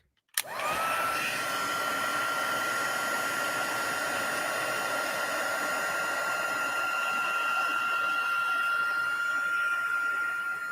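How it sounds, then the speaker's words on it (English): A heat embossing tool switches on with a click and blows hot air to dry a card, holding a loud, steady whirring hiss with a high whine throughout. "I'm going to take my heat tool and just dry this up a little bit."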